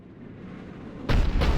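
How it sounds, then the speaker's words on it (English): A Cerberus cannon fires in Mass Effect 3, a sudden heavy blast that cuts in over low rumbling game ambience and rolls on with a second burst before the clip ends. "Looks like Cerberus got that cannon operational, Commander"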